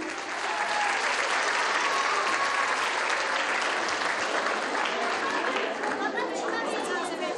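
A crowd at a children's singing competition gives sustained, loud applause for the young performers, with cheering and chatter woven through the clapping.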